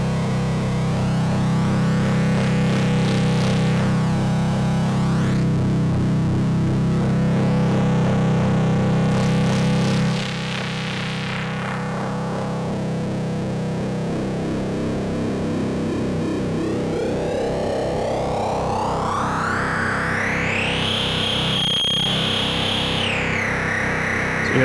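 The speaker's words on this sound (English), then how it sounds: "You hear that self-oscillation kind of ringing." Ringing, self-oscillating tones from an effects unit used as a distortion processor, with pitched lines that sweep and glide upward over a thick distorted drone, loud and continuous with no voices.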